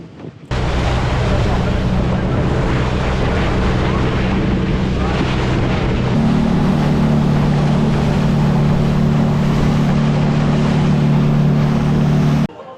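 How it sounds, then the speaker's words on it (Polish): A steady, loud motorboat engine drones close by with wind buffeting the microphone and water rushing, crossing a lake to San Pedro, Guatemala; the engine pitch steps up midway. "przypłynęliśmy do San Pedro łódką"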